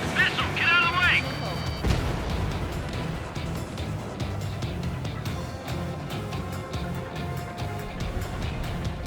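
Missile attack in the Ace Combat 7 jet combat game: a sharp warning tone at the start, then dense rumbling blasts and booms that continue throughout, with voices talking over the noise.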